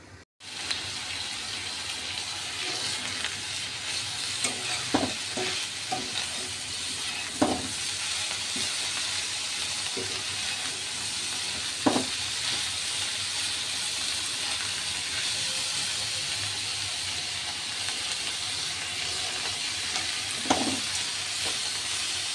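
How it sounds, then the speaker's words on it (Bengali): Shrimp heads, seasoned with salt and turmeric, frying in oil in a pan, a steady close sizzle with a few sharp clinks of a utensil stirring against the pan. "চিংড়ি মাছের মাথা ভাজা হয়ে গেছে।"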